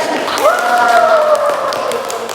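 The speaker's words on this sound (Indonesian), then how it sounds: "Ya, tepuk tangan dulu untuk Pak Niko." A small indoor group gives brief applause for Pak Niko at a teachers' session, steady clapping under a voice that briefly speaks over it.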